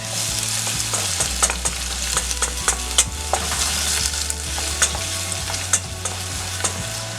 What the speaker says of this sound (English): on low heat, I want you to sweat the onions, alright? Not burn.